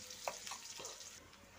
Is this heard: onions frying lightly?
yes